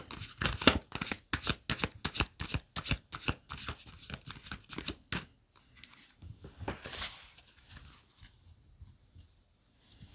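Tarot cards shuffled briskly at close range, a rapid run of crisp riffling flutters that thins into softer slides and single taps as cards are drawn, with no talking.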